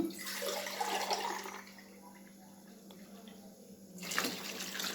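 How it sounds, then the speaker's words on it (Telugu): Two cups of water are poured into rice in a pot for bagara rice, a gushing splash at the start, a quieter stretch, then another burst of pouring. "రెండు చెమ్ముల వాటర్ అయితే ఇప్పుడు నేను యాడ్ చేసుకుంటున్నాను"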